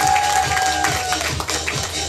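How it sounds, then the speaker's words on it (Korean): Parents in the audience at a school concert applaud, a steady crowd clapping with scattered cheers and a sustained tone running beneath at the start. "박수 소리가 역시"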